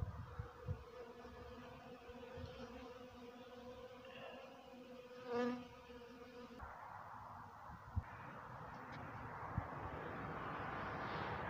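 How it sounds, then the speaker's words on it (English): Bees buzzing busily around a pile outdoors, a faint continuous hum with one insect passing close and loud for a moment, over quiet background noise and no talking. "he was pretty fascinated by the bees."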